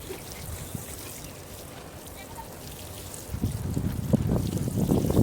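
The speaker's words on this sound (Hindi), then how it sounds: "अच्छा से पानी डाल देते हैं।" Water poured from a container into the soil of a potted plant, a steady splashing trickle that starts after a quiet low rumble and grows loud and close through the second half.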